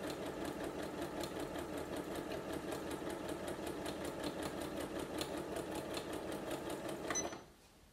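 A sewing machine chain-pieces fabric pieces, stitching in a rapid, steady mechanical chatter at close range before stopping abruptly near the end.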